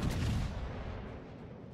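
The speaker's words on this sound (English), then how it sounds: "we get a shot off on the Colorado here" Heavy naval guns firing in World of Warships, a deep booming salvo at the start that rolls off into a low, fading rumble.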